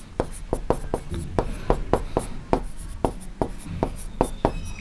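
Chalk or marker tapping and scratching on a classroom board during a maths lesson, a steady series of quick distinct strokes, fairly close and clear with little else around.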